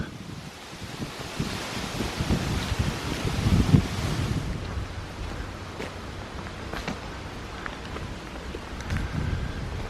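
Wind blows outdoors on a walk, roaring broad and loud into the microphone in the first half before easing to a steadier, quieter rush with a few faint knocks.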